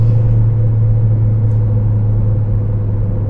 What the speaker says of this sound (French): Elle fait un bruit un peu plus rallye ici, ça j'aime bien.